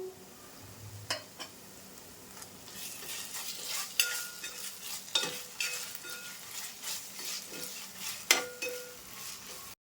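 Ginger garlic paste is stirred into onions frying in a pan, giving a soft continuous sizzle punctuated by repeated scraping and clinks of a spoon against the pot.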